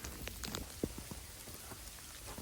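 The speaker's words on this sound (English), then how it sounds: "We've got freezing rain and sleet and stuff." Freezing rain and sleet patter steadily in a wintry outdoor setting, a dense close hiss of small drops and pellets striking surfaces, with a few sharper taps standing out.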